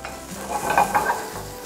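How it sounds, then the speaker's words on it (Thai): Tomatoes stir-fried in a pan as a side for barbecue pork ribs, giving a close, steady sizzle with a few brief scraping stirs. The burst lasts under two seconds and no one speaks. "ผัดมะเขือเทศนี้ก่อนนะครับ ผัดจนกระทั่งเขามีสี"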